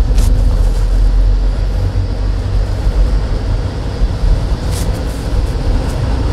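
A car engine pulls steadily during a road-driving lesson as the accelerator is pressed, a loud, continuous low rumble with road and cabin noise throughout.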